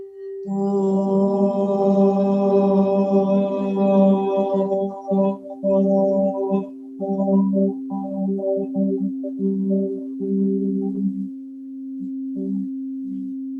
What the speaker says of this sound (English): let's wrap up the beautiful time we got to share together today with the sound of Om